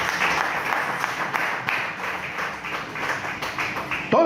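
A church congregation applauding, a steady patter of many hands clapping at moderate distance, fairly even throughout, with a louder bump at the very end.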